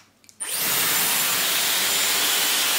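A Dyson Airwrap hair styler switches on while curling a lock of hair, jumping from near quiet into a steady, loud rushing airflow with a high whine that holds without a break.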